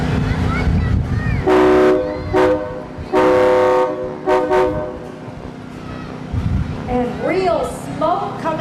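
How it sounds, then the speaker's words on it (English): A real train engine float rolls down a street in a Christmas parade, its horn giving several loud, separate toots of different lengths, mixed with crowd chatter and a nearby person talking. "Looks like they have a real engine coming down 3rd Street."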